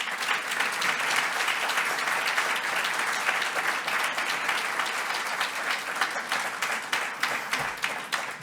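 A crowd at a business awards ceremony applauds an award winner, with thick, sustained clapping that holds throughout and thins slightly toward the close.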